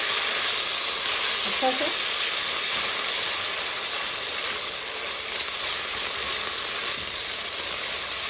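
Garlic and ginger paste sizzles loudly and steadily in hot oil for a chicken karahi, a dense hiss running unbroken throughout, with a brief spoken word near the start.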